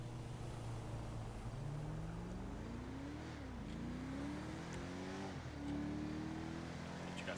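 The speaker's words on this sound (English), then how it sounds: "you guys hear that charger whine a little bit" Supercharged Dodge Charger in the video game GTA 5, its engine droning steadily with a rising, shifting whine as it accelerates, moderately loud and continuous under faint background sounds.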